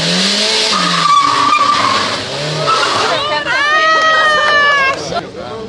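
A car engine revs high and tires squeal in long skids while maneuvering out of a tight parking space, loud and close, with a crowd murmuring underneath.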